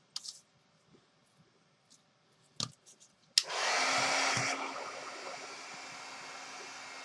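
Handheld hair dryer switching on after a few scattered taps and clicks, then blowing a steady loud whoosh at close range to dry craft pearls, easing slightly in level partway through.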